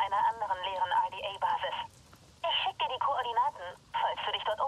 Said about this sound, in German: Na dann machen wir mal hier Anrufbeantworter an.